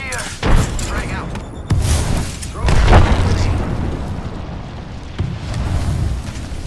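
Deep booming blasts from a frag grenade in Apex Legends, several heavy detonations spread out through the stretch with rumbling tails, loud and close, mixed with game noise and a voice talking.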